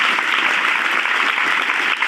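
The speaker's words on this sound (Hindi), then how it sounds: "तालियां" Sustained, dense applause from a crowd at a youth group gathering, loud and steady throughout with no pauses.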